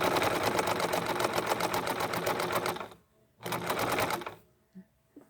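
A sewing machine stitches a rope bowl wrapped in sari silk ribbon, running in a fast, even mechanical chatter for about three seconds, then briefly again after a pause, followed by a few faint handling sounds.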